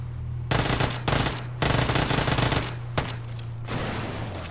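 Rapid automatic gunfire from the video game PUBG, several loud sustained bursts separated by short gaps, close and dominant with a low steady hum underneath.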